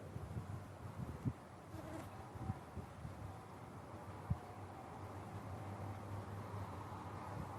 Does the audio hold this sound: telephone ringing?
no